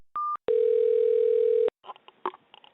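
Telephone dial tone after a call to Western State Hospital disconnects: a short beep, then a steady sustained tone of about a second that stops abruptly, followed by faint line noise and clicks.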